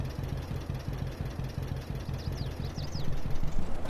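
A historical tractor engine idles in Farming Simulator 22, a steady low rhythmic chug with a faint higher mechanical whine drifting above it and a slight swell toward the end.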